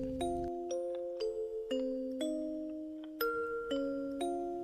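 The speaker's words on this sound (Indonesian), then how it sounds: "Suara Lonceng" A bell rings out repeatedly in a slow, even pattern, each clear chime ringing on and fading before the next strike.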